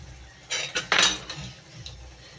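A utensil scrapes and clinks against a cooking pot while squid adobo with vinegar is stirred, with a few close, moderately loud bursts of metallic scraping and then quieter settling.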